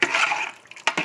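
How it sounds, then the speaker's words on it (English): Water poured from a can into a pot of chili, a close splashing gush that tapers off, followed by a couple of short splashes. "I'm just gonna add some water to it."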